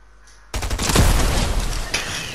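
Guns test-fired in Fortnite, a loud dense burst of rapid gunfire that starts abruptly and keeps going with a heavy blast near the start, no talk over it.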